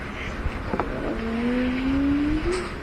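A toy car rolls across a luggage-style toy playset, making a close, brief whirring drone that rises slightly in pitch for about a second and a half, with light plastic knocks before it.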